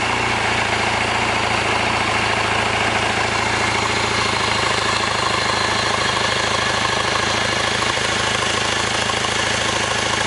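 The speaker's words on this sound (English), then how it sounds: "I'm holding this up at about 8 throttle or so just to keep it idling." A 1965 Royal Enfield Interceptor motorcycle engine idles with the throttle held up near 2,000 RPM while it warms, a steady, close, loud mechanical drone that carries on unbroken with no talk.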